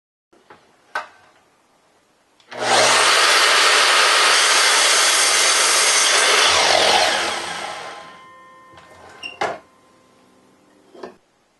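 A power saw starts up and cuts steadily through a wooden chair rung for several seconds, loud and close, then winds down, with a few knocks before and after.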